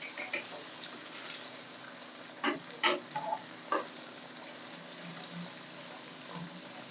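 Breaded chicken broast frying in hot oil, a soft continuous bubbling hiss with a few louder crackling bursts near the middle, close and fairly quiet.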